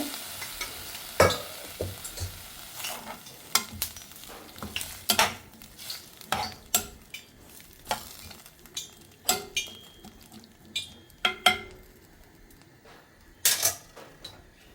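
Cooked vegetables with tomato and pepper being stirred and fried in a pan for an egg dish, with a soft sizzle under sharp, irregular scrapes and clinks of a spoon against the pan, close by and without talk.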